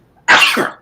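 A single sharp, close sneeze with a loud burst of breath that trails off over under a second.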